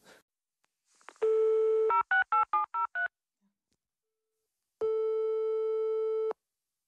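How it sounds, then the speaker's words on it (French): A telephone dials the Haribo factory: a steady dial tone, a quick run of about six touch-tone beeps, then a long, loud tone, close and clear, with no speech. "Puisque c'est comme ça, j'appelle l'usine Haribo."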